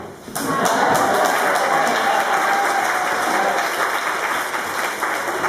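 A church congregation at an Episcopal service breaks into loud, sustained applause, a dense crackle of many hands clapping that sets in abruptly after a brief lead-in and carries on unbroken.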